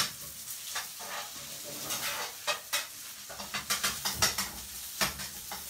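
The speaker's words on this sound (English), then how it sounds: "So we just have to fry those off." Breaded chicken livers frying in a pan, a soft sizzle with a run of quick spattering pops and crackles that grow busier toward the end, no speech.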